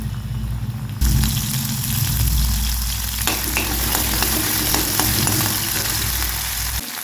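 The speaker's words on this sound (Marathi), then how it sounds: "हे वाटलेली लसूण आणि मिरची त्याच्यात टाकून घेऊया" Garlic and green chili paste sizzles loudly in hot oil, the frying surging up after a sudden drop into the pan and then crackling steadily and continuously, close by, with no talk.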